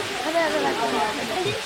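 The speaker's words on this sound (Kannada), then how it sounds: "ಇದೆ ಅದು ವಾಟರ್ ಫಾಲ್ಸ್ ಚಿಕ್ಕದು." A small waterfall near an ancient temple close to Srisailam in Andhra Pradesh gives a steady, full rushing of water, with a voice talking over it.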